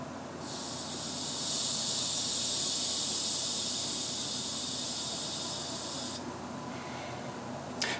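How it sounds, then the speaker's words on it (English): Pressurized gas escaping from a bottle of homemade ginger ale carbonated with yeast makes a sustained, sharp fizzing hiss that swells slightly, runs for about six seconds, then stops, followed by quiet and a small knock. "You see that it kind of fizzed up"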